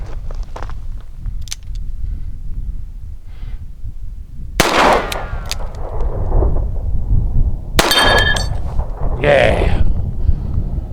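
Two sharp, loud revolver shots from a Smith & Wesson Model 19 snub nose fired at a target 25 yards away outdoors, spaced about three seconds apart, each with a brief ringing tail over wind noise.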